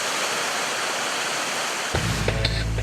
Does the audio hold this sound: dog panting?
no